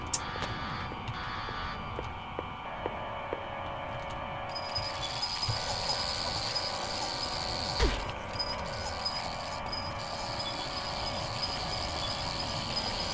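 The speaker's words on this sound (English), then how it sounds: "it's so weird that those cockroaches sound like this" Cockroach monsters in the horror game Silent Hill 2 give off a steady mechanical creaking and chittering, with faint ticks and a brief louder thud over a constant eerie drone.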